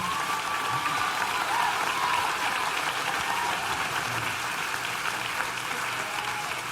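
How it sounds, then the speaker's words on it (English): An audience at a motivational speaking event gives a steady, full round of applause, a dense wash of many hands clapping continuously with no talk over it. "Give him a round of applause."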